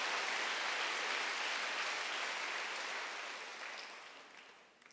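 A Korean church congregation claps during a Sunday worship service, a broad, dense wash of applause from many people that holds steady and then slowly fades out toward the end.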